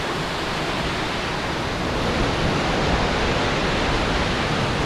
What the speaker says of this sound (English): Just stopped here at another waterfall on the side of the road.